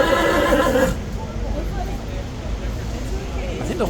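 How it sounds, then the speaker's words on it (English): A horse at Horse Guards in London whinnies loudly for about a second, then a busy outdoor crowd murmur and faint street noise follow. "I think the horse is saying make way for the Kingsguard,"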